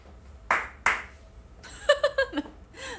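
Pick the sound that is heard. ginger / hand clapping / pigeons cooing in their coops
hand clapping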